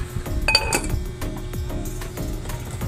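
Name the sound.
lid placed on a cooking pot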